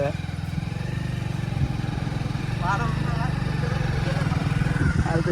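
A motorcycle stuck in the rain, its engine running with a steady, close, rattling idle that rises slightly midway, while people talk over it.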